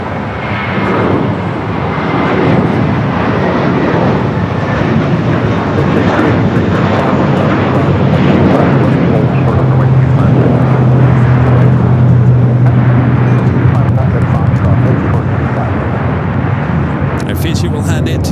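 A jet airliner takes off from runway 25 Right at LAX, its loud, steady engine roar filling the scene throughout, with a sustained low tone midway and a voice talking over the noise.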